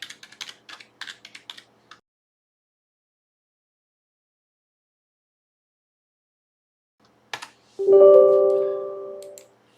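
Quick keystrokes on a computer keyboard typing an IP address for a Windows port scan, a close burst of clicks followed by silence, a couple more taps and then a sustained electronic tone, with no talking.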